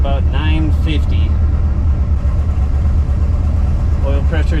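A 1973 AMC Javelin AMX engine idles with a steady low rumble close by, while someone talks intermittently over it at the start and end.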